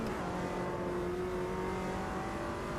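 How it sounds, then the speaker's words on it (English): Real McLaren sports car passing outside a house, a muffled steady engine roar heard indoors from a distance, with no one talking. "I just heard a real McLaren go by, I think."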